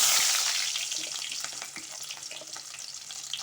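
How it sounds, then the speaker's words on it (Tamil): Small shallots hit hot oil already crackling with mustard seeds for puli kuzhambu, a loud initial hiss settling into steady close sizzling with scattered pops. "அடுத்தது சின்ன வெங்காயத்தை சேர்த்துக்கலாம்."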